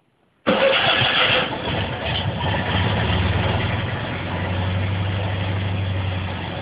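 A small Fiat 126p engine, started by push button, cranks and catches after a brief silence, then settles into a steady, close running idle that continues to the end.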